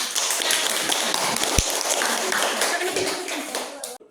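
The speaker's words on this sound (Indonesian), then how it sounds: "Oke, tepuk tangan." Applause from a gathering at a funeral prayer service, a steady dense patter of many hands clapping that carries on for several seconds before tailing off.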